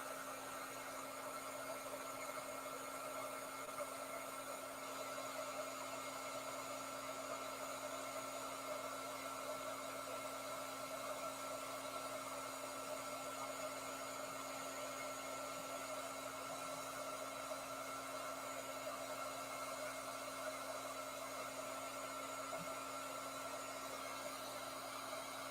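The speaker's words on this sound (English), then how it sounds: "If you have a heat gun with more than one fan setting" A single-speed heat gun blows hot air in a steady, unbroken whir with a constant motor hum, running alone without pauses for the whole stretch.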